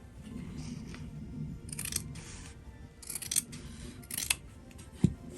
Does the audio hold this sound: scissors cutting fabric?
yes